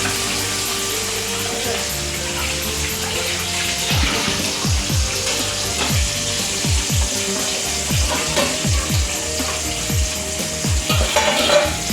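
Mutton braising and frying in a pan for a Pohela Boishakh family meal, a constant loud sizzle with scraping stir strokes from about the fourth second onward and some background voices.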